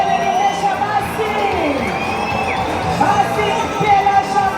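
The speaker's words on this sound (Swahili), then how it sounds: "Haya, makofi makofi kwa Mheshimiwa Rais." A dense crowd cheers and shouts for the President at the unveiling of a newly donated Shabana FC bus, with whoops and voices rising over steady, loud crowd noise throughout.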